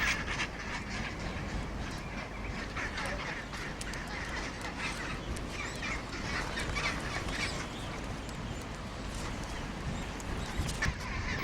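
A colony of gentoo penguins among rocks fills the air with a dense, continuous chorus of honking, braying calls over constant background noise, with no speech.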